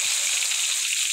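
Bay leaf and ginger-garlic paste sizzling in hot oil while olive pickle is made, a brief, steady hiss heard up close without talk.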